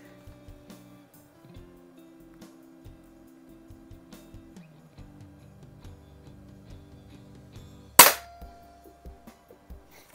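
A 1970 Crosman 760 smooth-bore air rifle fires a single sharp, loud shot that stands alone. Faint clicks and ticks of handling surround it before and after.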